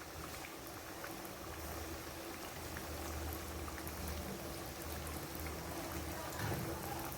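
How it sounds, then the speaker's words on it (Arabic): Donuts frying in a pan of hot oil, giving a steady, close bubbling sizzle with a constant low hum underneath, even in loudness throughout. "هذه هي الطريقه ديال القلي ديالهم"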